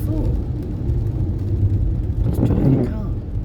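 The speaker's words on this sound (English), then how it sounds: "Just driving a car." A car being driven, its engine giving a steady low rumble that swells briefly near the end, heard beneath someone talking throughout.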